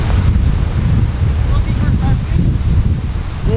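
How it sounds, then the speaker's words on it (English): Big waves breaking on a black sand beach in heavy rain, a loud continuous surf roar mixed with buffeting wind on the microphone and no voices. "We're on a black beach and it's raining like crazy. And those are big waves."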